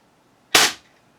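A single sharp, loud crack from a 1979 Crosman 1377 American Classic multi-pump pneumatic air pistol, close by, decaying quickly into quiet.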